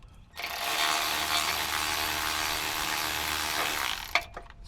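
Socket wrench ratcheting steadily on a bolt during an axle job on a BMW E38, a continuous dense clicking run lasting about four seconds, close and loud, ending with a couple of sharp clacks.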